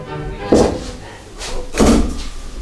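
Two heavy knocks or thumps on a door, spaced about a second and a half apart, each a loud low thud with a short ringing tail, standing alone without talk.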